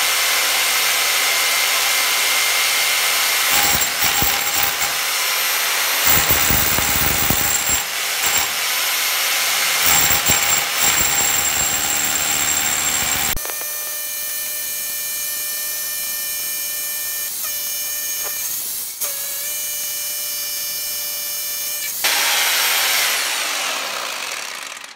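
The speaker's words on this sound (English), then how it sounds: "this drill is working just beautifully" A power drill whines loudly in bursts as it drills holes through a house wall for radon removal, cutting out briefly and starting again, then runs in a steadier, thinner whir before stopping.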